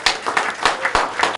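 An audience applauds at the official launch of a party school, a brief, close run of rhythmic clapping that cuts off abruptly.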